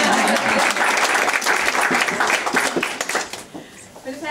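Audience applause greets the founder and chairperson of a charity as she is introduced, a dense sustained clatter of many hands that thins and fades toward the end, with some speech mixed in.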